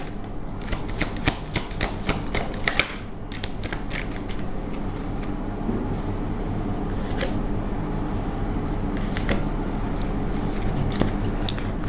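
Tarot cards are shuffled and dealt by hand in a close, quiet setting, with soft riffling, flicking and snapping of card stock in irregular bursts over a low steady background hum.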